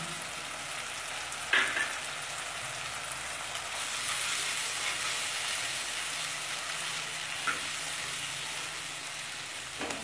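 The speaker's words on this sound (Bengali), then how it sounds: "তেল ছেড়ে না আসা পর্যন্ত খুব ভালো করে কষতে থাকবো যাতে টমেটোগুলো মিশে যায়" Chopped green chilli and tomatoes frying in oil in a pan for a Punjabi chickpea masala, a steady close sizzle throughout with a brief stir clatter near the start and no talking.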